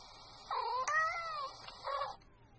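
A cat gives a couple of drawn-out, wavering meows with bending pitch, fairly close and clear against a quiet background, the first one longer and the second one shorter.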